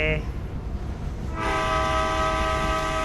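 In a video game, a train's low rumble, then a loud sustained horn with rich harmonic tones sounds up close and holds to the end.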